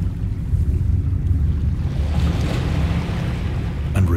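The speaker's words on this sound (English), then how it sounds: "a far-flung body of water flowed at the bottom, winding out of sight in both directions and almost lapping my feet" Water waves in the horror game Dagon, a steady low wash of surf and wind that stays even and fairly loud throughout, with no voices.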